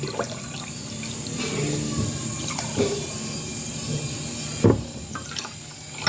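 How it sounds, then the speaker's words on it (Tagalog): Cold water pours steadily into a container while gelatin is being made, a continuous splashing rush with a brief louder splash near the end. "Malamig na tubig."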